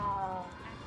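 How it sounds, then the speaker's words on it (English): A cat in a video game wails in one brief, drawn-out meow that fades away quickly, faint against a quiet background. "Still hear a cat wailing."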